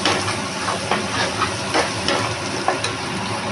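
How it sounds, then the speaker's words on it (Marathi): Red masala fries in hot oil for a Malvani prawn sukka, a steady close sizzle and hiss with soft stirring pulses and no talking. "आणि त्यामध्ये मी आता टाकत आहे, आता घातला आहे मी लाल मसाला। तो सुद्धा चांगला असा मस्त भाजून घेते मी"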